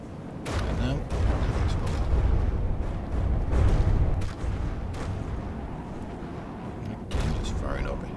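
Vehicle weapons firing in a From the Depths battle: repeated booming blasts and bursts in an uneven, rapid series over steady rumble, loud and close, with someone talking over the gunfire.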